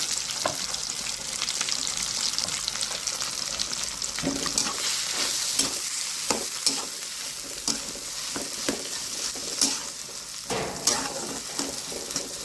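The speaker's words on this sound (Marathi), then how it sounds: "जिरं छान तळलं की लगेच हे मिश्रण त्याच्यात टाकून थोडंसं हलवून घेते." A spiced sandwich filling mixture is stirred into cumin frying in hot oil. Steady loud sizzle runs throughout, with repeated scraping clinks of a spoon stirring against the pan.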